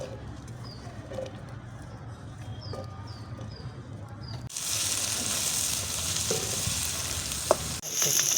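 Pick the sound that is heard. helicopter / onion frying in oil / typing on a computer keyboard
onion frying in oil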